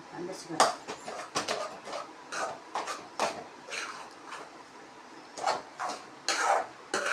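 Maggi noodles are stirred in a pan on low heat, giving soft, irregular scrapes and light metallic clinks close by, mixed with a woman's speech throughout.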